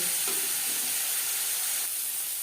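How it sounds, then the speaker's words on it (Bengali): Carrots frying lightly in two spoons of refined oil in a pan over medium flame give a steady, close sizzle with soft hiss and a faint stir or two, no talking. "দু 3 মিনিট গাজর হালকা করে ভেজে নেব।"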